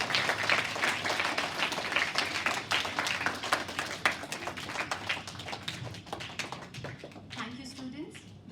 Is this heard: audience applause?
yes